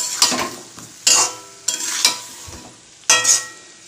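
Spice paste with salt and turmeric is stirred and fried in a pan, giving bursts of close sizzle and spatula scrapes in an uneven rhythm of about five strokes, with quieter gaps between them.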